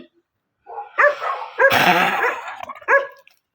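Dog barking in a home, several short yaps and barks in quick succession, close and fairly loud, with someone hushing it in between.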